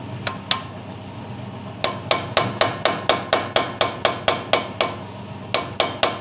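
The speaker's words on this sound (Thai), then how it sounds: "นี่คือกำลังตอกตอกตอกฝาออกนะครับ" A hammer strikes metal while knocking a cover off an Iseki NT554 tractor during a shaft seal replacement: two sharp blows, a pause, then about sixteen loud, evenly spaced clanging hits, close up.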